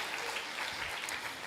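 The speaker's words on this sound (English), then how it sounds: "Let's give him a round of applause." Brief, dense applause from an audience at a primary school graduation ceremony, a continuous patter of many hands at moderate loudness.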